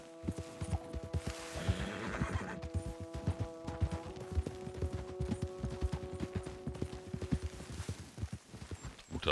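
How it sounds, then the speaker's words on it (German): A horse in Red Dead Redemption 2 whinnies with a drawn-out neigh while hooves clop rapidly and rhythmically, close by and continuous. "Na, hier will das Pferd nicht so rauf."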